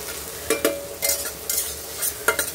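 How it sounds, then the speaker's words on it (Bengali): A spatula stirs mashed fish bharta frying in a pan, giving irregular scraping strokes roughly every half second over a soft continuous sizzle, close and clear with no voices. "তো ভালো করে নেড়ে নিচ্ছি"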